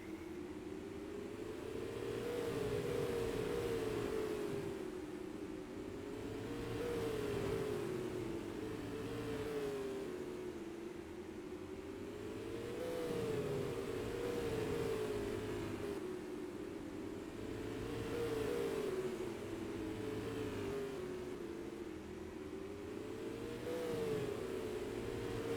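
Race cars in the All-Star Classic 200 at Star Speedway in Epping circle the track, their engines rising and falling in a steady repeating drone as they pass through the turns, distant and without talk.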